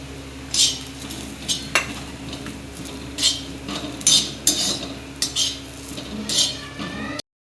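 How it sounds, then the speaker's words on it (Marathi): Dry coconut is roasted in a pan and stirred, giving irregular scraping and clinking strokes of a utensil against the metal pan over a faint steady hum. "आता खोबरंही भाजून घेते तिथं।"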